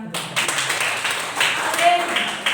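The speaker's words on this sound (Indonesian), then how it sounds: "Tepuk tangan." A high school classroom claps hands together on cue, a close burst of uneven clapping that starts abruptly and continues in bursts, with voices mixed in.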